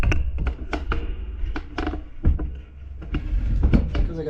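Door of a 1941 Chevy truck being worked open, a series of irregular close metallic taps, clunks and thunks with short pauses between.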